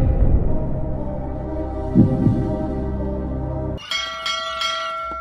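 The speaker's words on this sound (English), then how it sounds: "Three bells. We all know what three bells means." A loud, clear bell rings three times in quick succession, sounding just after a low droning hum cuts off, in an animated cartoon scene.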